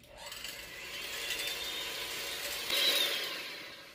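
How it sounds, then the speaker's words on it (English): An electric mixer beats cold heavy whipping cream in a bowl, a steady close whirring with a faint rattling texture that grows slightly louder toward the end. "I'm gonna go ahead and beat it with my mixer until I have very nice soft peaks"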